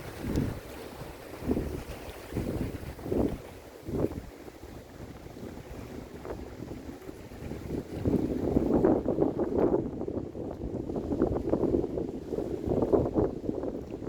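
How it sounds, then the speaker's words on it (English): Wind picking up at a beach beside mangroves, gusty rumbling buffeting against the microphone that swells louder and denser in the second half, with faint surf beneath. "because that wind's picking up as I'm speaking"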